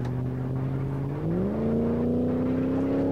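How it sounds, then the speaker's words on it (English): A Gavril Barstow 291 V8 engine in the BeamNG.drive video game hums at a steady drone, then its pitch rises smoothly as it revs up and holds a higher, louder tone, with no voices. "The engine is very healthy."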